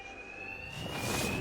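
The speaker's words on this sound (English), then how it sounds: "Two-Face's thugs won't hear me over the alarm." Electronic alarm ringing in the video game Batman: Arkham Knight, a steady sustained tone with a high harmonic, held for the whole stretch while background noise swells louder toward the end.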